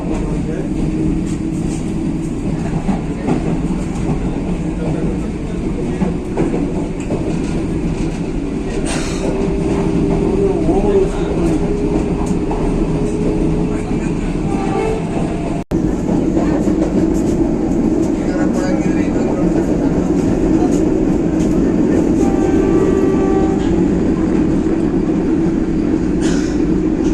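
Inside the Vande Bharat express train, number 20642, on its inaugural Coimbatore–Bangalore run, a continuous loud rolling rumble with wheel clatter and occasional sharp clicks carries on steadily throughout.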